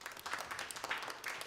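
Audience applause for a speaker named Mundia at a live women's human rights movement event, a steady patter of many hands clapping at moderate level for a second and a half with no voices.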